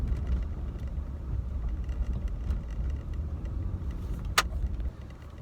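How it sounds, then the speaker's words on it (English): Cars driving past on a road, a steady low rumble of traffic throughout, moderately close, with a brief sharp click near the end. "People keep driving in front of me."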